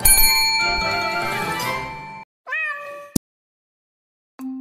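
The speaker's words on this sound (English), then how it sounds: "Meow." Cartoon cat meows in an animated read-aloud story for children, one long clear meow followed by a shorter mew and a final clipped one, separated by silence and a bright ding.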